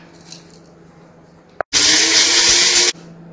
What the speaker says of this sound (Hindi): मिक्सी में डाल के